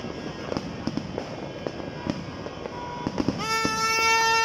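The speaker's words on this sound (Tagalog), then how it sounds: "Grabe, ang daming fireworks" Repeated fireworks bursts, a string of sharp booms and crackles at varying distances, with a rising whistle or tonal hiss building near the end.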